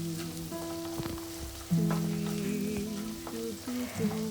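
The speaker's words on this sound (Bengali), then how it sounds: "তোমরা দেখতে পাচ্ছ সকলেই ইতিমধ্যেই মা হিং দিয়ে দিয়েছে, নাড়াচাড়া করে নিচ্ছে।" Asafoetida (hing) sizzles in hot oil in a pan while being stirred. The frying hiss is steady and close, broken by stirring scrapes and clinks.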